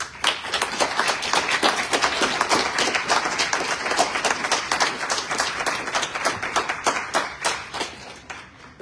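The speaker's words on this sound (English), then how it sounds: "Keep clapping, I'm still plugging in my laptop." Steady applause from a meeting audience at a transit planning session: dense, continuous clapping from a roomful of people that holds for nearly nine seconds without a break.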